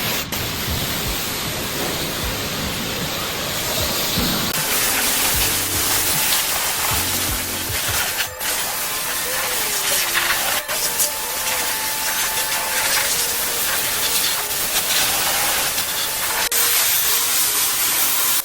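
A high-pressure water jet rinses shampoo off a Kia Ray during a hand car wash, a loud continuous spraying hiss that shifts in tone as the nozzle moves across the bodywork, with no speech.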